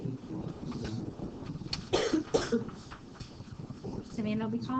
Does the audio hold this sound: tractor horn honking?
no